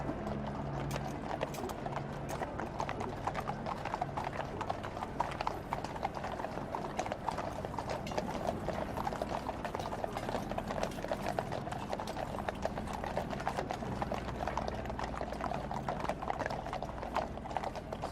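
Horses' hooves clip-clop steadily as ceremonial carriages turn a corner on sand sprinkled by the Victoria Tower during the State Opening of Parliament, a continuous, moderately distant trotting rhythm with faint crowd ambience.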